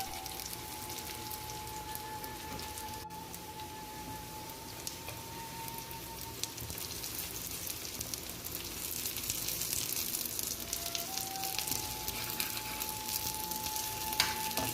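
Food fries in a kadai (wok) that had been oiled, giving a continuous, rain-like sizzle that is faint but steady throughout and swells slightly near the end, with no talking.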